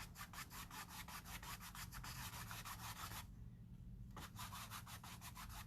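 Dry, scratchy paintbrush strokes rubbed over canvas in quick repeated back-and-forth passes, close and steady, with a roughly one-second pause before the strokes resume.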